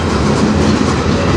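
Freight train X383 rolls by on the Strathroy Subdivision, a loud, close, continuous rumble of wheels and cars with rhythmic clatter over the rails.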